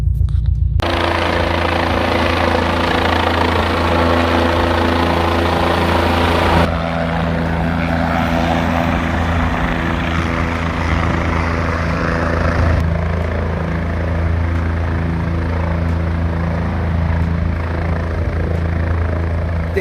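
A helicopter lifts out an injured motorcyclist after a crash on a winding mountain road, its rotor and engine thrumming loudly and continuously nearby for the whole stretch.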